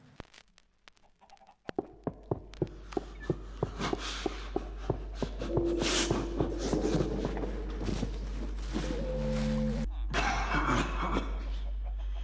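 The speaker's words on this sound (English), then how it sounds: "So most of this track is footsteps," Footsteps from a Minecraft music disc, a video game track: a regular series of crisp steps with a low steady drone beneath, followed by denser shuffling, scattered noises and brief tonal blips.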